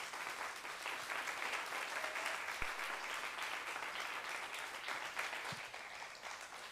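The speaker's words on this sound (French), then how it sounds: "faire un tonnerre d'applaudissements pour l'association Sidi Soul" Steady, dense audience applause at a slam poetry festival rolls on without pause, a broad wash of clapping at moderate distance with no voices.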